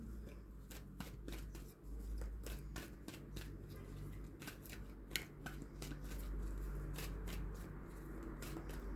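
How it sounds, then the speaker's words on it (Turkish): Tarot cards being shuffled by hand, a steady run of quick crisp riffling snaps and card slides, close and fairly quiet over a low background hum. "Bir bonus kart çekmek istiyorum."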